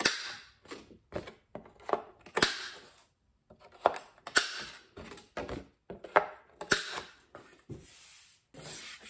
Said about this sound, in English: I'm going to round these 4 corners.